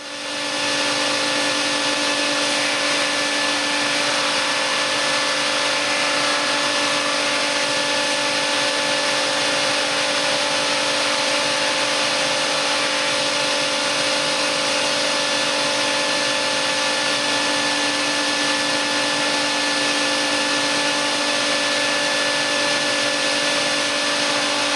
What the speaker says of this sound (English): run these through the drum sander and lightly sand them